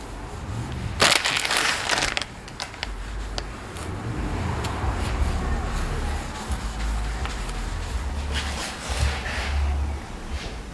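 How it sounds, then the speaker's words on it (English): An Eagle One surface prep mitt rubs over car paint, giving a steady, close scrubbing hiss with a few sharper swipes and a low rumbling undertone. "So then hitting the rest of this with the mitt."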